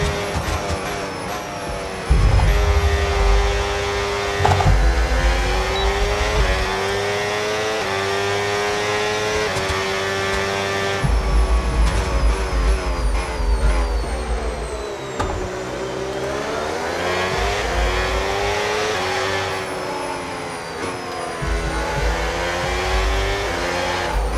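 Race cars on the final lap of an Audi electric race, high whining motors rising and falling in pitch as cars pass close by, steady and loud throughout with several distinct pass-bys and no talk.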